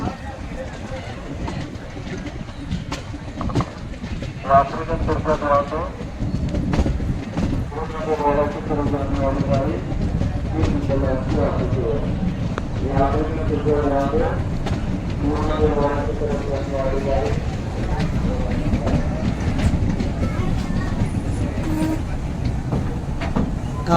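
A metre gauge train on the Junagadh–Sasangir–Delvada line near Talala junction rolls along in light drizzle, a steady low rumble with rhythmic wheel clatter and rattling carriages throughout, while people talk nearby.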